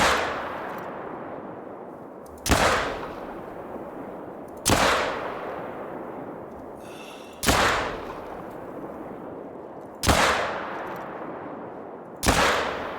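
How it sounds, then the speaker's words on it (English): A shotgun fires in the hunting video game theHunter: Call of the Wild. Five heavy blasts come a few seconds apart, each a sharp crack that fades into a long, rolling echo across open ground. "Boom! Man, it's a shotgun."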